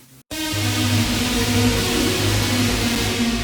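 A synth lead played only through a fully wet reverb with no dry signal, a dense sustained wash of sound with held low tones beneath, starting abruptly after a brief gap and continuing steadily.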